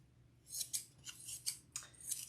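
Scissors snip around quilt batting pieces, a quiet, close series of about six crisp cuts at an uneven rhythm with nothing else heard.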